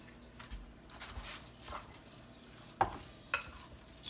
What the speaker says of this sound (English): Mix it up again here.